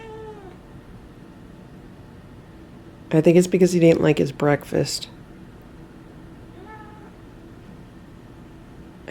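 A rescued cat gives a burst of several loud, close meows in quick succession midway through. A person talks quietly before and after.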